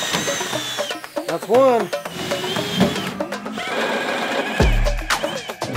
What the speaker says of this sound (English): We're officially gonna put some holes in some expensive aluminum.